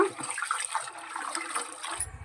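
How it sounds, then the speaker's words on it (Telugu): Rice is washed in water, with soft sloshing and trickling liquid sounds up close, short and steady, ending in a brief low knock. "ఇలా బియ్యం కడిగేసుకున్నాం కదా,"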